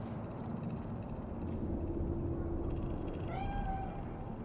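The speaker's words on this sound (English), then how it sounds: "Do you see it? The cat." A cat meowing in Night City in the video game Cyberpunk 2077, a single drawn-out meow near the end over a steady hum of city ambience.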